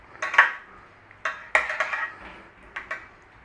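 Roast potatoes tossed in oil in a metal pan, giving a few scattered clattering and scraping bursts of potato against pan, fairly close, with no talking.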